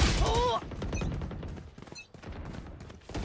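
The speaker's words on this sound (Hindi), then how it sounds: "पहले से गोली चला रहा है" Video game gunfire crackles in quick bursts of sharp shots, fairly faint, over a busy background.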